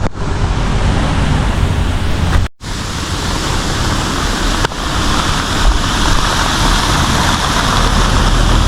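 Water crashes down at Kalu waterfall in Malshej Ghat in a loud, steady roar that fills the whole clip, with one brief dropout partway through.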